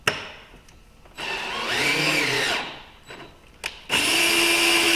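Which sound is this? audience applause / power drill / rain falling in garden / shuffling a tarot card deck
power drill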